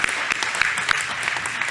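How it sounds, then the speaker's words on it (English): Audience applause at an investment forum after a speaker named Chris finishes answering questions, a brief burst of steady clapping filling the whole moment. "Round of applause to Chris."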